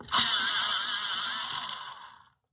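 Pencil sharpened for a colouring project, a steady scraping grind lasting about two seconds, close and fairly loud, with no talk over it.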